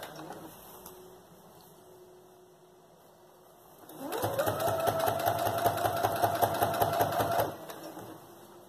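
A sewing machine runs steadily for about three and a half seconds, stitching a seam on a child's backpack, its rapid even needle rhythm close and loud, with quieter handling before and a brief fade after.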